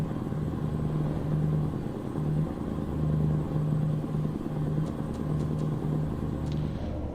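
Scania 730 V8 truck engine in a 10x4 snow roller rig from a trucking video game, a steady low-RPM droning rumble running continuously at close range with a faint periodic hum layered over it.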